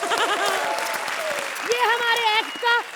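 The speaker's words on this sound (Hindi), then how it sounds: "तालियां!" A studio audience claps on a comedy stage show, a continuous spatter of applause running under loud, overlapping voices that call out and cheer in the foreground.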